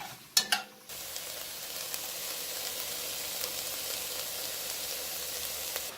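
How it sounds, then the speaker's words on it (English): Peppers go into a sizzling pot of cowboy beans: a couple of sharp clanks and a splash first, then a steady, close, soft frying hiss that continues alone. "in go half of our peppers. Give it a stir."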